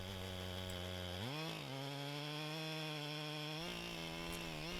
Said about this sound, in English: This notch is one of the most important cuts in the whole felling operation